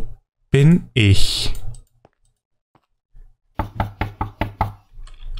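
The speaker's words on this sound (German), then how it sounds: "Klopf, klopf, ist jemand zu Hause?" Knocking on a door in the Minecraft video game, a quick series of about six sharp knocks near the end, preceded by a person speaking.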